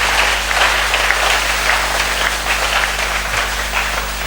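A church youth gathering in Kinshasa fills with sustained applause and cheering from the congregation, a steady dense wash of clapping and voices lasting the whole moment.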